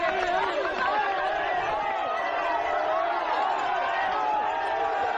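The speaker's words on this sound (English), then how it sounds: "Good noise from the crowd, of course." A crowd cheers and chatters in a steady, loud wash as trail runner Ludovic Pommeret of France arrives at the Trient checkpoint during the UTMB Mont-Blanc ultramarathon.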